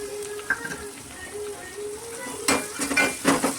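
Chopped onion and curry leaves go into hot oil, sizzling steadily as a spoon stirs and scrapes the pan, with a few louder clatters near the end.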